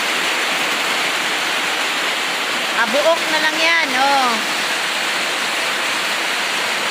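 Heavy rain pours down in Marcelo, Mabini, a steady, dense, close hiss that never lets up, with a voice speaking briefly over it midway.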